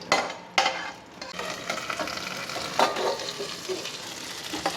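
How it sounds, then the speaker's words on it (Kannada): Green chillies frying in hot oil throw off a loud, crackling sizzle with sharp spluttering pops, while a spoon stirs and scrapes the pan. "ಹಸಿಮೆಣಸಿನ್ಕಾಯಿ ಸಿಡಿಯುತ್ತೆ."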